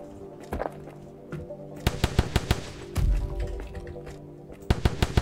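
Gunshots from a game gun, sharp single cracks in irregular clusters, a few isolated then quicker groups near the end, over quiet ambient music.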